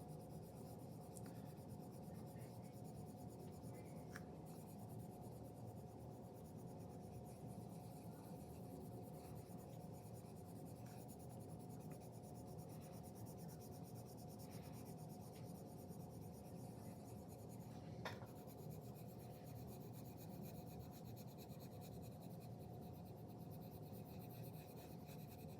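Colored pencil rubs firmly across paper while burnishing and blending two colored areas, a faint, continuous scratchy swishing that carries on steadily throughout with no voices.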